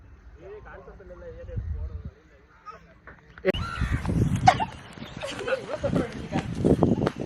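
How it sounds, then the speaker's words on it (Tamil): A crow caws overhead in a few harsh calls early on, then people talk loudly over outdoor noise in Thoothukudi. "மேலே காக்கா வந்துட்டான்"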